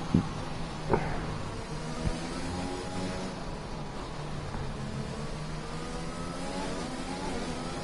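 Formula 1 race car engine in a video game at the Singapore Grand Prix, a steady high-pitched whine rising and falling through gear changes, moderately loud with a few brief clicks early on.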